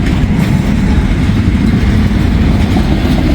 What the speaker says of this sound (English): Locomotives are past, let's scoot up a little bit.